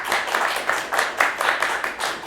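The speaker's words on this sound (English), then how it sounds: "And round of applause for the Moon Man for better story." Steady, rhythmic clapping from a studio audience at a comedy panel show fills a short stretch, fairly close and even in loudness, with little talking over it.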